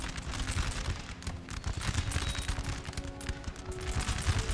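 Musket volleys crackle in Napoleon Total War, with ragged massed firing popping continuously over a rumbling battlefield background for several seconds, no voices.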